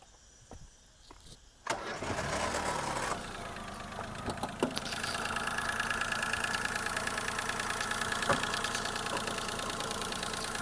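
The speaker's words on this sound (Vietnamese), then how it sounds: "Đấy là phần máy, là máy rất êm các bạn nhé" A 2008 Daewoo Matiz SE engine starts after a few faint clicks, then settles into a steady, smooth mid-pitched idle that holds to the end.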